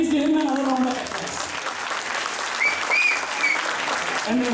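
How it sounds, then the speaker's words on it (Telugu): An audience at an Ugadi cultural event gives a steady round of applause, dense clapping that stays loud from start to finish while a voice speaks over it. "Please give me another round of applause."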